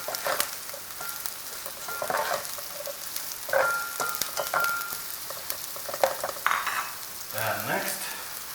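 Shredded cabbage fries in a pan for Kenyan fried rice, with a steady loud sizzle punctuated by close stirring scrapes and utensil clinks.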